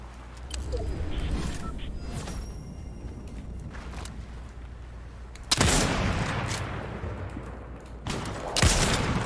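Bursts of gunfire in the video game Fortnite, sharp rapid shots crackling over a low rumbling background, with two louder blasts standing out near the middle and end.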